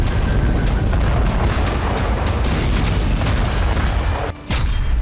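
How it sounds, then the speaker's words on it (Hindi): Explosions from Israeli bombardment of Gaza: a dense, continuous low rumble of booms and blasts with sharp cracks scattered throughout, loud and unbroken apart from a brief dip near the end. "गाजा में इजरायल की भीषण बमबारी अब भी नहीं रुकी है।"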